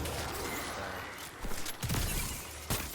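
Gunfire and a blast in Destiny 2 from a Strand Warlock build: a rapid burst of shots under a noisy game backdrop, followed by a few sharp thumping impacts near the end.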